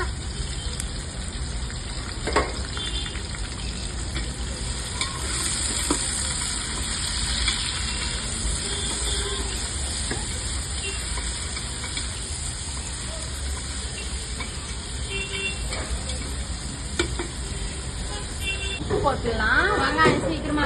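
Chopped onions sautéing in a pan for mutton biryani give a steady, low frying sizzle that runs unbroken, with faint clatters and a voice talking over it.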